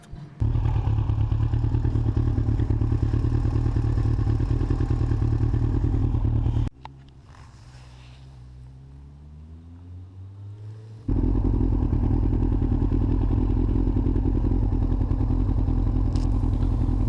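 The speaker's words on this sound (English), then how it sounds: "this is just a parking lot where I'm practicing wheelies" A motorcycle engine roars loud and steady while practicing wheelies in a parking lot, dropping to a lower idle-like rumble for a few seconds before the revving returns at full volume, with no voices.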